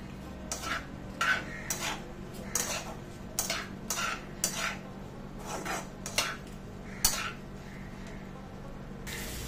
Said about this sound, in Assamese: হালধি পাউডাৰ দি আকৌ গোটেইখিনি ভালদৰে লৰাই দিছোঁ